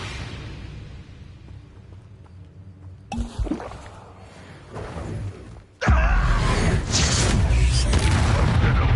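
Hogwarts video game spellcasting with Incendio, the fire spell: a quiet stretch, then a whooshing burst with a thud, and finally a loud, sustained roar of flame that fills the last few seconds.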